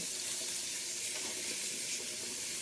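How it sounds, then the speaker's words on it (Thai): Leaves being washed under a running kitchen tap, a steady close hiss of flowing water with faint splashing and rustling, continuous and even, with no talk. "ตอนนี้เราก็มาล้างใบอันนี้กันนะคะ"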